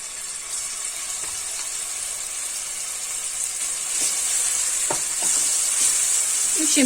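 Tomato paste sautéing in oil in a frying pan, a steady close sizzle and hiss that builds slightly, with faint scraping stirs near the end.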